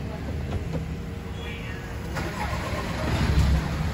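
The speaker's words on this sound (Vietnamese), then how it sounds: "Và đây em sẽ nổ máy và bật nắp capo cho các bác xem nhá." A 16-seat van converted to a cargo van has its engine cranked and started, then settling into a smooth, steady idle close by, with a low rumble building toward the end.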